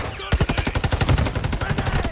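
Automatic gunfire in the mobile shooter Warzone Mobile: a fast, loud burst of evenly spaced shots starting abruptly and rattling on steadily, close to the player, with no talk.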